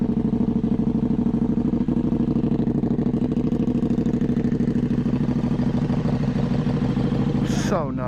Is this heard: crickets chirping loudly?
no